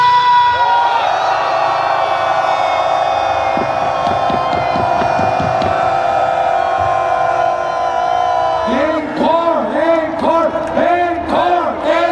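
Crowd at a Gwanghwamun rally in Seoul against President Yoon's impeachment roaring and shouting in a loud, sustained outdoor din, with rhythmic chanting pulses and bursts of whooping toward the end.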